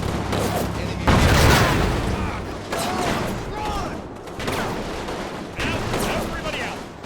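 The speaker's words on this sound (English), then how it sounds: "The Stug fires first, with great effect." A StuG assault gun fires on an M10 tank destroyer in a Combat Mission Normandy battle, with several heavy booming cannon and small-arms bursts rolling one after another, loud and close, under a narrating voice.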